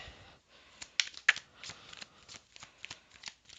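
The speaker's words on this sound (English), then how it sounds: "Let's just pull a couple of cards and see what they say." Tarot cards shuffled and drawn from a deck, close and alone, a run of soft papery riffles and flicks broken by a few sharper snaps of cards being pulled.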